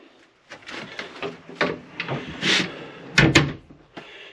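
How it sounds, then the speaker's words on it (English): A bathroom door inside a boat under construction is shut, with scattered knocks and rattles of wood building to a sharp double clack near the end, close and fairly loud. "you can actually get inside and close the door even."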